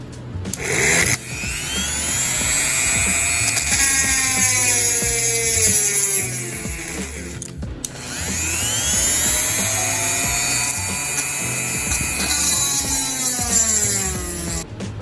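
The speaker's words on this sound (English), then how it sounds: "Okay, we got the Dremel tool." Dremel rotary tool grinding at a stuck pinion gear, a loud, steady high-pitched whine with shifting pitch that runs almost continuously, dropping out briefly near the start and again midway before resuming.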